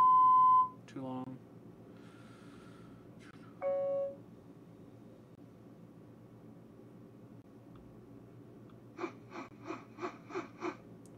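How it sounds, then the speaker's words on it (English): Short cartoon beep sound effects: a pure tone beep, a quick squiggly warble, another held beep, then a rapid series of six bright pulsing bleeps, isolated and fairly loud. "What's this cartoon beep?"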